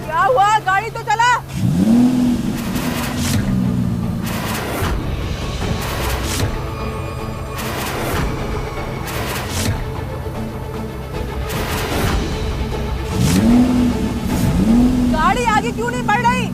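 A car engine revs repeatedly while the car stays in place, rising and falling in two clear surges near and loud, with people talking over the engine throughout.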